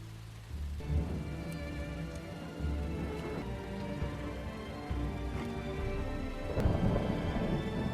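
Heavy rain pours steadily on a dark night in the film Ninja Assassin, with deep thunder rumbles and cracks rolling in repeatedly underneath.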